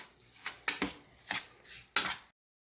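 A spoon scrapes and clinks against a bowl while mixing tuna, several quick strokes, close and moderately loud, with brief pauses between.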